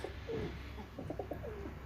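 Soft, low cooing notes from a pigeon, repeated a few times, faint and somewhat distant over a steady hiss.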